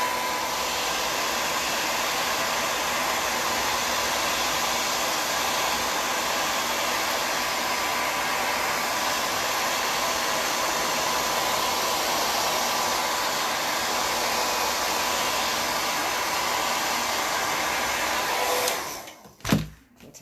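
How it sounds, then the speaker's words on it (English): A blow dryer runs steadily on a styled hairdo, a loud continuous airy whoosh close by that holds for about nineteen seconds before clicking off with a brief thump. "I'm going to use a little bit of the blow dryer just to kind of help lock things in place"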